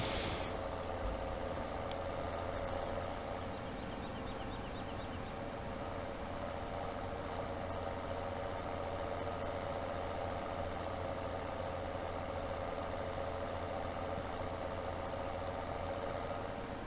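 A tractor engine idles steadily in the Farming Simulator 17 video game, a constant low mechanical drone that stays even and close throughout with no talk over it.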